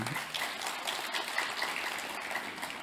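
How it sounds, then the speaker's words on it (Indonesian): A lecture audience gives steady applause for presidential candidate Ganjar Pranowo. The sound is a continuous, faint, crackling patter of many hands heard from a distance in a large hall, with no voices over it. "Kita tepuk tangan buat Pak Ganjar."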